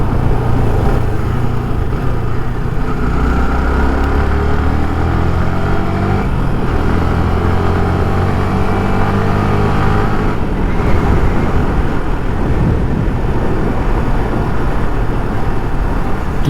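A Yamaha R15 V3 motorcycle ridden on a road near Pechiparai Dam, a steady loud engine drone with rising and falling pitch under heavy wind rush.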